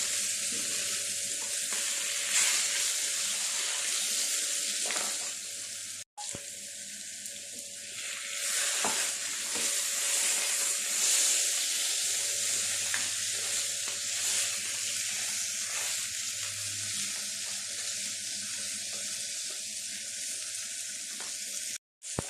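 Fish sizzles and crackles steadily in a hot pan of oil during Kerala-style meen pollichathu cooking, a close, continuous frying hiss with occasional stirring and no voices.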